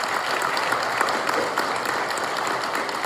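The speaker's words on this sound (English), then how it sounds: "let's give everyone one more round of applause." An audience at a Chamber of Commerce political forum in Henderson gives a dense, steady round of applause that holds at an even level from start to finish, with no speech over it.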